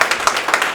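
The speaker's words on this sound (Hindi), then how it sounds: "सर के सम्मान में एक बार जोरदार ताली बजाइए" Audience at an event in Rohini, Delhi, clapping to honour a guest, a brief, dense burst of many hands with fairly loud, steady claps and no voices over it.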